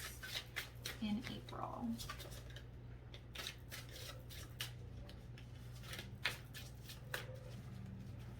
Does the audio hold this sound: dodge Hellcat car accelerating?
no